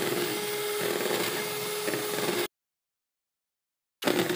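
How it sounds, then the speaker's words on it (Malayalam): An electric hand mixer on its first speed beats eggs with sunflower oil for a cake batter, giving a steady close whir that stops abruptly midway, leaves a short silence, then starts again. "ഇനി ഫസ്റ്റ് സ്പീഡിലിട്ട് നമുക്കിതൊന്ന് നല്ലപോലെ മിക്സ് ചെയ്തെടുക്കാം"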